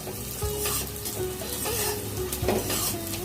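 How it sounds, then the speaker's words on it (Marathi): Onions fried with whole spices sizzle and crackle in a hot pan while a utensil stirs and scrapes against the metal a few times. "आता आपल्याला हा कांदा छान गुलाबीसर परतून घ्यायचा आहे आपल्या खडा मसाल्यांबरोबर"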